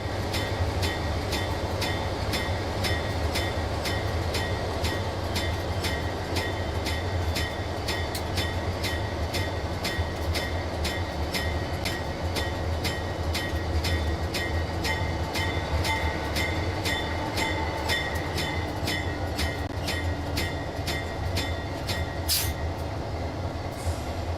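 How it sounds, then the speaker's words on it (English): White Pass & Yukon train rolling on rails near Fraser, a loud continuous rumble with regular rhythmic clicks of wheels over joints and a brief squeal near the end. "We're arriving in Fraser, where our train will pick up passengers from the waiting tour buses and return to Skagway."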